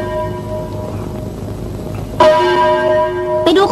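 A temple bell rings out loud and close, with one clear strike about two seconds in that leaves a long, shimmering ring and a second strike near the end, over low background noise and no speech.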